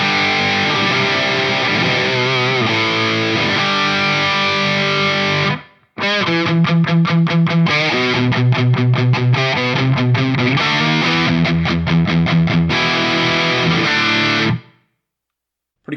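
A heavily distorted electric guitar through a Line 6 Helix amp modeler with reverb plays a sustained chord, then chugs out rhythmic palm-muted riffs, loud and upfront, ending abruptly in silence.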